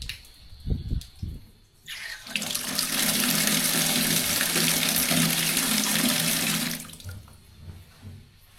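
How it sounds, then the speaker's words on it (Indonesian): A campsite bathroom tap gushes strongly for about four seconds, a steady loud rush of water, with faint clattering before and after. "Kondisinya bersih dan air mengalir kencang."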